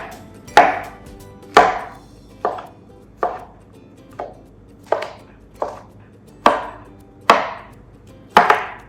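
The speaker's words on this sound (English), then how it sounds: "we just start chopping through the pile to get these mushroom pieces a little bit smaller" A knife chops mushrooms on a cutting board with about eleven sharp, close strikes at a steady, unhurried rhythm, each followed by a short scraping tail.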